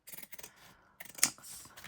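Scissors snipping through paper envelopes during junk journal making, a few quick close cuts with one sharp bright snip near the middle, soft handling rustle between.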